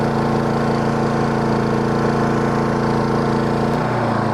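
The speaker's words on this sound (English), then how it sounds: "If I turn it on high, I mean, it still runs quiet in comparison to a lot of generators out there." A Honda EU2200i inverter generator runs on high with a loud, steady, close engine drone that shifts and eases slightly just before the end.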